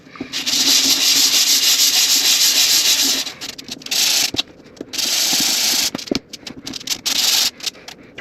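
A Losi Promoto-SM RC motorcycle brake is sanded by hand with 220 grit sandpaper, loud close scratchy rubbing in long steady strokes broken by short pauses and quicker bursts.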